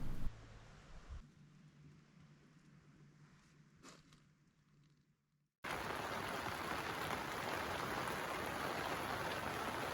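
Rain falls at a bikepacking campsite in Wales. After a few quiet seconds a steady, loud hiss of rain begins abruptly and holds evenly, drumming close by on a surface.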